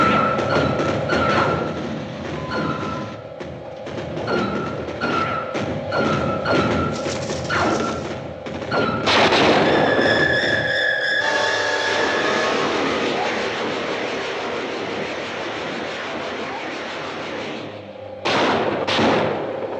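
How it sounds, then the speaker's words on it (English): Artillery fire in a 1956 science-fiction film, heard as a run of heavy thuds and booms spread over about twenty seconds, with whining, engine-like tones rising after the midpoint and a final burst near the end. "The artillery doesn't penetrate."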